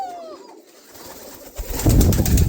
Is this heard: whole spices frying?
no